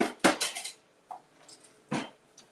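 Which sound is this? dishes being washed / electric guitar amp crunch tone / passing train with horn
dishes being washed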